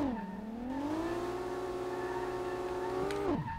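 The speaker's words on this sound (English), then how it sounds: "This engine acts like it's a fucking diesel, I swear." A 2JZ engine in a 240SX drifts in the SLRR video game, holding a steady droning rev that dips, climbs and then drops off sharply near the end, heard alone and close.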